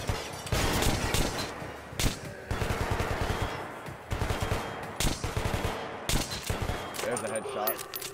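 Gunfire in the Metro Last Light video game, heard as repeated loud bursts of automatic weapon fire separated by short pauses, close and harsh, with faint shouting voices in the background.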